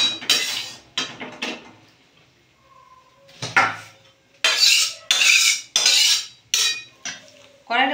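Boiled chow mein noodles are tipped out of a metal pot in a kitchen, giving a run of loud clattering metal knocks and scraping bursts with short pauses between them.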